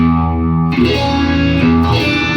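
A distorted electric guitar chord, with the strings around the fretting fingers muted, rings out, then is strummed again twice, the sound clean and focused without stray ringing strings.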